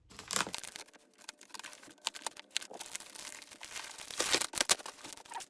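Crinkling and tearing of tight plastic wrapping as a yarn package from a hobby shop is carefully opened, close and fairly quiet, in irregular bursts with louder rustles toward the end and no talking.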